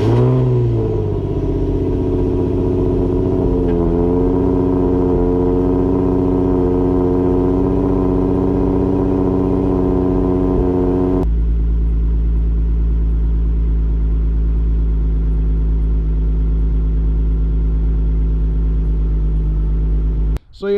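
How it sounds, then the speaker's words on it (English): A Nissan 350Z NISMO engine cold-starts and settles into a loud, steady idle close by, with a sharp initial rev then a deep continuous drone that drops to a lower, rumbling idle partway through and cuts off at the end. "Nice little cold start for you boys."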